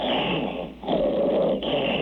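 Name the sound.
person imitating a growling tiger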